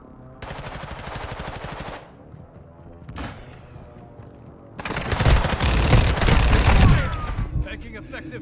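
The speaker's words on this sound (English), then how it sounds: "Taking effective fire." Gunfire in a Call of Duty game: loud sustained automatic bursts, then a single sharp shot and a heavy, dense barrage of overlapping fire close up, with in-game voice callouts.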